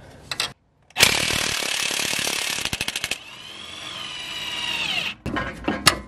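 A power tool whines and hammers loudly up close while backing out a trailing arm bolt on a Mazdaspeed 3 during a rear suspension rebuild, running in long bursts with a rapid stuttering impact stretch, then short blips at the end.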